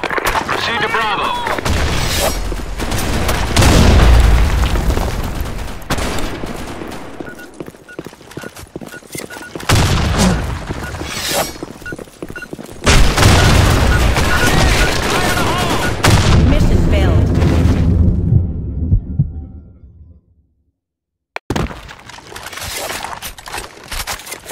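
Grenade blasts and gunfire in the online shooter BlackShot, loud booming bursts and rattling shots repeating for over twenty seconds with game radio voice callouts, then a brief drop to silence before the noise resumes.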